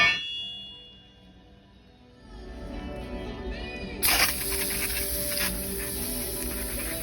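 Degreaser spray hisses onto a part from a 1985 Trans Am. A sharp clank comes first, then a steady, close spray that runs to the end.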